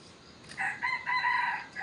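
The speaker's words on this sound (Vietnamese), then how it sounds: "sáng sớm nay thì mình lại có chút thời gian quay mấy con gà tôi cho mọi người nghe nhé" A rooster crows once in a rural Vietnamese setting at early morning, a moderately distant cock-a-doodle-doo of about a second and a half with a faint hiss of background.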